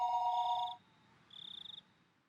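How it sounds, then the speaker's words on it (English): A telephone rings in the visual novel Higurashi When They Cry Hou: a steady electronic ringing tone, then a brief pause, then a shorter warbling burst, clear and alone with no voices. "After I put down the receiver for a few seconds, the phone began to ring again."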